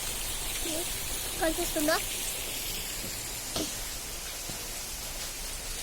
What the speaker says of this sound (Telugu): చాలా భారీ భారీ వర్షాలు ఇక్కడ పడుతున్నాయి ఇక్కడ